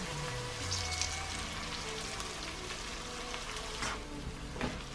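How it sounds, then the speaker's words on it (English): Garlic and onion frying in a pan, a soft continuous sizzle with light crackles and occasional stirring, heard alone at low level. "Oh, I love the smell of garlic and onion cooking."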